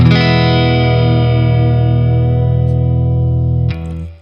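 A sustained clean-toned electric guitar chord with plenty of reverb rings out with a steady wavering tremolo pulse, loud and alone, shifting to a lower chord just before the end.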